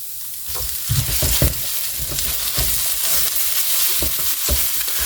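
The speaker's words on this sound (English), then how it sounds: "I'm going to throw the chorizo in now" Chorizo frying in an electric skillet, a loud continuous sizzle with repeated scraping and stirring knocks as the meat is pushed around, close and without voices.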